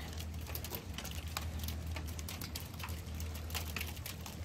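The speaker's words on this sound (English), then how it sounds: "There's some big chunks of hail going on here." Big chunks of hail bounce on the deck of the boat Tangaroa, a dense, steady patter of many small hard ticks with no gaps, heard up close over a low background rumble.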